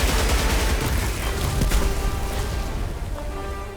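Rapid gunfire from the shooter game Helldivers 2, a dense, loud sustained fusillade of overlapping shots and booms filling the whole stretch with no pause.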